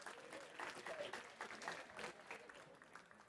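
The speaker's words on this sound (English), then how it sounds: "A round of applause for yourselves." Conference audience applauding themselves during a talk on inclusive leadership, a steady mass of clapping with some voices and cheers mixed in, moderately distant and soft.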